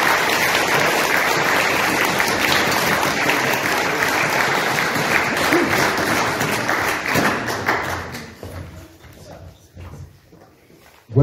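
Sustained warm applause from an audience at a poetry contest, dense clapping held steady for several seconds before thinning out and fading toward the end.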